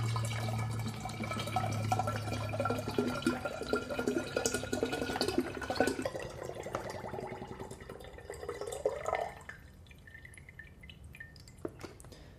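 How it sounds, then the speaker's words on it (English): Coconut water is poured into a jar, making a steady splashing trickle for about nine seconds. It then stops, leaving quiet room tone with a few faint drips. "So all we have to do is pour our coconut water in our jar."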